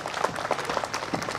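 Applause from the audience at a martyrs' tribute evening, a somewhat distant patter of many hands with a few individual claps standing out, moderately faint and uneven.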